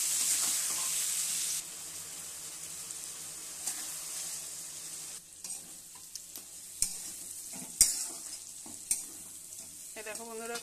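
Spice paste with potatoes and a splash of water being stir-fried in a pan for a freshwater fish curry, giving a steady soft sizzle with occasional sharp scrapes and clinks of a spatula against the pan, fairly quiet and close.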